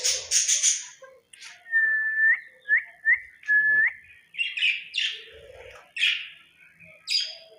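Australian parrots kept in a house chirp, whistle and squawk in short bursts, with a run of clear rising whistles in the middle, close and fairly loud, with no talking.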